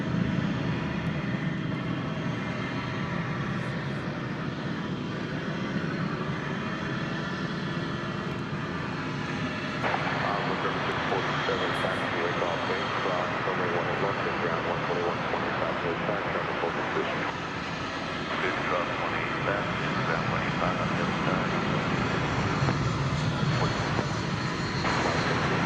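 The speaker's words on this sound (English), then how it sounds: "we salute you, 20th century aircraft" A jet airliner passes at DFW Airport in the early morning, a sustained engine roar that swells and fades while someone talks over it.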